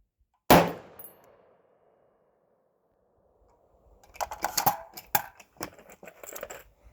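Suppressed Scar 16S rifle fired into a steel backstop, one sharp loud shot with a ringing metallic clang that fades, then after a pause a quick irregular burst of clattering metallic impacts.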